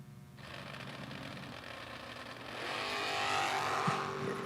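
Drag race at a Laris Motorsports event, a Roadster against a Chevrolet Malibu: engine roar heard from a distance builds and rises in pitch, growing louder toward the end as the cars accelerate down the strip.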